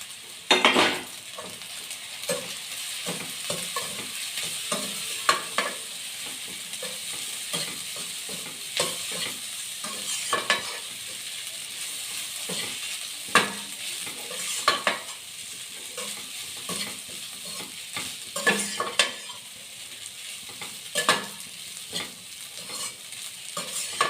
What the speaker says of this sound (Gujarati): લાલ મરચું, ધાણા જીરું આટલું નાખીને બધું મિક્સ કરી દઈએ।